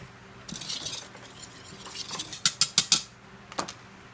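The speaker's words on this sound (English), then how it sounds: "Alright, so now we're going to mix that together" Thyme, basil, onion powder and sea salt being stirred together in a bowl, a run of close, sharp clinks and scrapes from a utensil that grows into several loud strikes, then a brief pause and two more taps.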